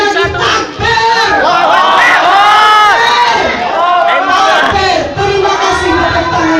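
A rally crowd chants takbir in loud, rhythmic unison at a political campaign event, voices rising in repeated shouted calls that fill the space and sound close.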